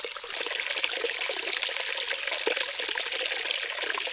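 Water trickles and flows steadily from a spring in the Utah desert, a bright continuous babble close to the microphone, alone without talking.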